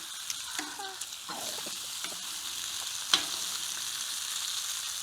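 Bacon frying over a Breeo Y Series fire pit outdoors, a steady broad sizzle with scattered scraping and clinks from utensils, close and without talk.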